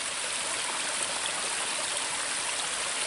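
River water flows steadily near a beaver dam and pool, a constant close rushing wash with no voices.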